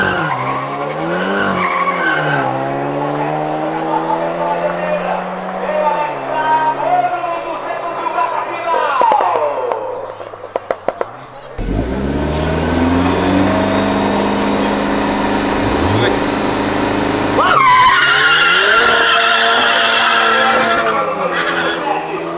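A Saveiro GTI at a drag race roars and revs hard, then its tires screech in a loud skid as it launches, engine noise staying close and dominant throughout with crowd voices mixed in.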